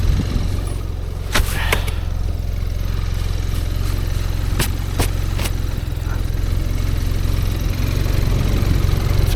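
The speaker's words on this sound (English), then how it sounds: "Actually idling pretty good considering that it's got last year's fuel in it." An engine idles steadily on fuel left over from last year, a continuous low rumble throughout with a few sharp clicks and knocks over it and no talk.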